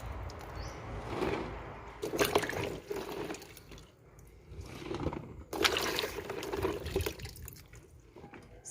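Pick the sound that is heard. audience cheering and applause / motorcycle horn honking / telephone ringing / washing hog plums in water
washing hog plums in water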